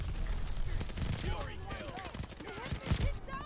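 An M1928 submachine gun fires in Call of Duty Vanguard, with quick bursts of shots crackling over game sound effects and a voice speaking underneath.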